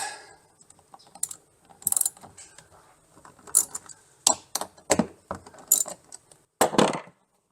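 Loosening a bracket on the passenger-side rail of a Worksport AL4 flip-up hard tonneau cover produces a run of close, sharp mechanical clicks and ratcheting bursts, uneven in rhythm, with no talking.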